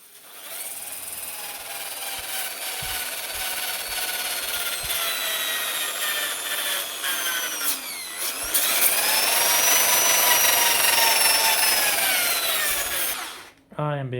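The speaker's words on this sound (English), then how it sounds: "It's got a nice soft sponge attachment with the 120 grit on the drill" A drill fitted with a soft sponge 120-grit sanding attachment works the door of a 1960 Borgward being prepped for paint, a steady loud whirring grind with a pitch dip and rise midway, running continuously until it stops near the end.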